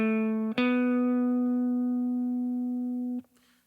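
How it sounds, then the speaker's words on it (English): A gospel guitar lick on a sliding pentatonic scale: a short note slides quickly up into a long sustained tone that rings clearly, alone, for about three seconds before being cut off. "I want to show you a very popular gospel lick"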